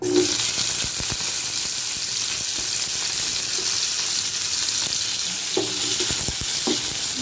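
Steady sizzling of pirandai (adamant creeper) frying in ghee, with scraping and clinking of a utensil stirring in the pan throughout.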